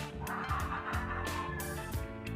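Close, repeated clucking and squawking from young Burmese gamecocks about two to four months old, several overlapping calls in quick uneven bursts with no voices.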